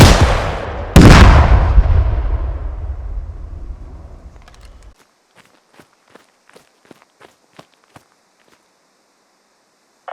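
Anti-tank launcher fired with backblast in Squad, two sharp loud booms a second apart with a long rumbling decay, followed by a string of faint footsteps.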